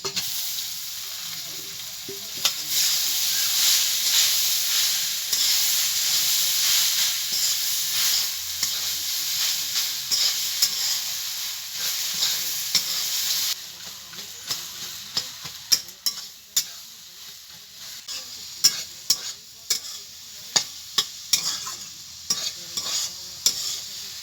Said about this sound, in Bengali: এবার সেদ্ধ করে রাখা এই শাকটা দিয়ে দেবো।